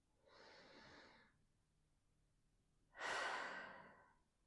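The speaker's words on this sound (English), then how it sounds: "One more deep breath in." Two slow, airy breaths during a guided stretching exercise, a softer exhale-like breath followed by a louder, fuller deep breath, close and alone in a quiet room.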